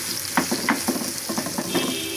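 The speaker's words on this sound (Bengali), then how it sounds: "যে ডালের জন্য ফোড়ন দিচ্ছি, রসুন আর পেঁয়াজ বাদামি করে ভেজে নিচ্ছি।" Garlic and onion fry in hot oil for a dal tempering, a steady loud sizzle with repeated stirring scrapes and spatters close to the pan.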